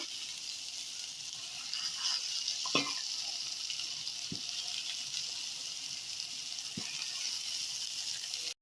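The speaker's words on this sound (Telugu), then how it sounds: "ఇదిగోండి, ఫిష్ పీస్ వేసేస్తున్నాను." Fish pieces frying in a pan for Telugu-style fish curry: a steady hiss and sizzle of oil, moderately close, with a few soft clinks and knocks.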